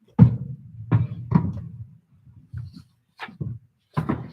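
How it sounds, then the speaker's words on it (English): A walking frame moves through a house, heard as a handful of separate dull knocks and scrapes spaced irregularly over a few seconds, fairly close, with quiet gaps between them and no speech. "That noise you hear is my mom's walker moving from probably her one room to the bathroom."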